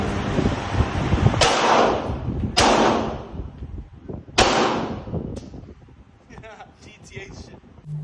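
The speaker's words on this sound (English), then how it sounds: "So at this point, I started messing with a tactical Glock, which had a red dot scope on it." Three sharp, loud cracks from a tactical Glock 17 Gen 5 9mm pistol with red dot sight and torch fired at an outdoor range in Thailand, spaced a second or two apart over wind noise and faint voices.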